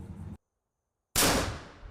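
A single loud cannon blast erupts after a brief silence, its broad roaring boom decaying over nearly a second, tied to the Revolutionary War siege at Yorktown.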